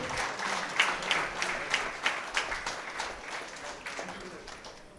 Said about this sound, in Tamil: நல்ல ஒரு கரகோஷம் கொடுக்கலாமே